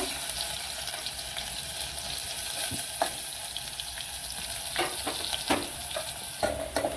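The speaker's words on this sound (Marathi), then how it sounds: "हे दोन चमचे हे तेल टाकायचं त्यामध्ये आपण कांदा परतूया" Onions fry in two spoonfuls of hot oil, a steady close sizzle broken by a few sharp scraping and stirring clicks, with no one talking.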